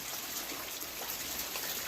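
Steady, even rain falls outdoors on a tarpaulin in Sakleshpur, a dense wash of patter with no voices and no breaks.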